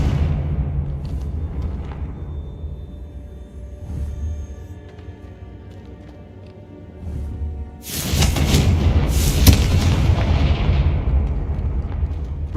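A Confringo fire spell explodes in the Hogwarts Legacy video game, a loud broadband blast that erupts after a quieter ambient stretch and keeps roaring and crackling for several seconds.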